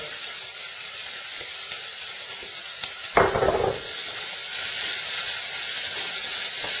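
Onion sizzles gently in a pot with seasoned salt, celery flakes, garlic powder and smoky paprika for smoked turkey neck and pinto bean soup, a steady soft hiss with one brief louder burst midway.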